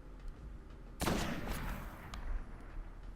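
Gunfire in the game Destiny lands as one sharp blast followed by a few lighter scattered shots, fairly faint overall against a low background hum.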